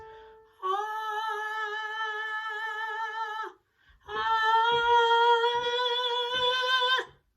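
Two long sustained notes sung in a breathy falsetto voice, each held for several seconds with slight vibrato, separated by a short pause.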